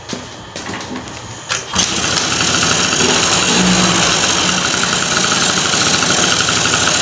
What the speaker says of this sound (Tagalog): Pero nilayo natin yung gap niya Ayun, umandar agad.